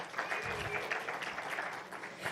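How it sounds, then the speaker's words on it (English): Applause from a workshop audience greeting a panelist at a content creators' event, steady clapping filling the whole stretch at moderate level without a break. "Can we give her a huge round of applause?"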